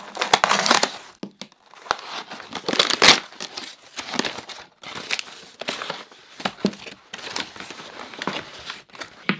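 Art supply packaging being unwrapped and pulled apart, with repeated close crinkling, crumpling and tearing of wrap in irregular bursts and short pauses, no talking.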